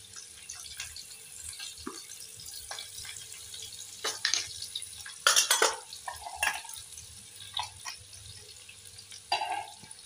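Onion and garlic with dried coriander and fenugreek are stirred in a pan at home: intermittent metal clinks and scraping spoon strokes over a faint low sizzle, with occasional louder clatters.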